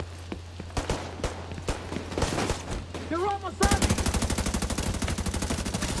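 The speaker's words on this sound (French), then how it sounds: "Ah ouais, ça tire là-bas." Gunfire in The Division 2 video game: scattered single shots early on, then a sustained rapid machine-gun burst of evenly spaced loud reports, with some speech mixed in.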